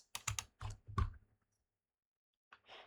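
Computer keyboard keys pressed in a quick burst of several crisp clicks, a pause, then a couple more taps, close and clear against a quiet room.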